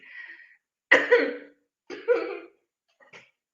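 Two short, harsh coughs close up, followed by a faint small cough, after a brief breathy sound.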